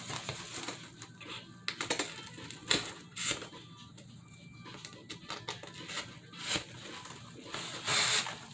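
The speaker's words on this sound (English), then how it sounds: "I'm going to punch 2 holes and feed the pipe cleaner from the back" Sharp punching clicks and snaps through Dollar Tree foam board, with irregular taps and rustles spread across the clip, close and moderately loud, with no talking.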